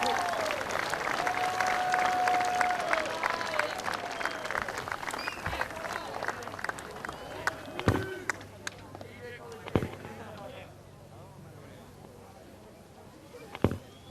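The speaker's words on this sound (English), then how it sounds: "Everybody give a nice round of applause to our actors / victims here today." Audience applause for student actors after a high school FAA accident simulation, a dense crowd clapping outdoors that fades over the first eight seconds into scattered claps, with a few sharp bangs and murmuring voices.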